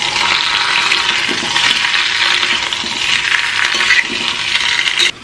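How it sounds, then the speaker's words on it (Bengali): Boiled potatoes frying in desi ghee in a kadai while being stirred, a steady loud hiss and crackle that runs continuously with a few soft scraping knocks. "বলেছিলাম আলুগুলো একটু ভেজে নেবো, এই সেদ্ধ আলুগুলোকে একটু আমি নেড়ে চেড়ে নেবো।"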